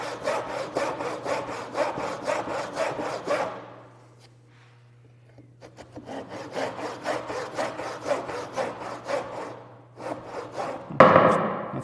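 A hand saw cuts along a marked line in softwood in two runs of quick, rhythmic back-and-forth strokes separated by a brief quiet pause, ending with a sharper, louder scrape.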